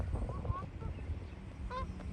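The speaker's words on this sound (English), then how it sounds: "oh, there's the Canada geese" Several Canada geese honk on a bright day, their calls arriving in scattered bursts over outdoor ambience, with a louder cluster of honks near the end.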